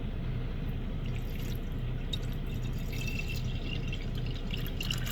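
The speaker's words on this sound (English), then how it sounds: "This electric kettle here with water." Tap water running into an electric kettle, a continuous loud splashing rush with faint bubbling drips above it, close and steady throughout.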